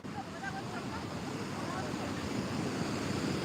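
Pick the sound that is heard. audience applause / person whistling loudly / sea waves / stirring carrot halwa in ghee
sea waves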